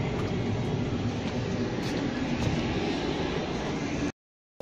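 Steady rumble inside a moving Progo economy-class passenger carriage travelling from Kutoarjo toward Pasar Senen, Jakarta, a continuous low rolling drone with faint rattles, cutting out abruptly near the end.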